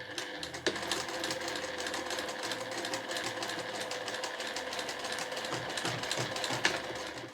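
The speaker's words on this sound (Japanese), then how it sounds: "では 1cm 先に針を下ろして返し縫いからスタートします。" A sewing machine stitches layered linen fabric, starting with a backstitch. It hums steadily and fairly close with a fast needle clatter, running continuously for the whole stretch.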